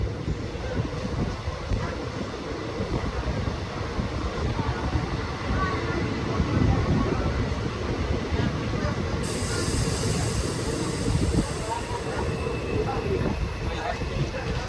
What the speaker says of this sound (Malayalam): പാസഞ്ചർ ഒരു 3 മിനിറ്റ് ഡിലേ ആയിട്ട് തുവ്വൂർ സ്റ്റേഷനിൽ ചെന്ന് കയറിക്കൊണ്ടിരിക്കുകയാണ് കേട്ടോ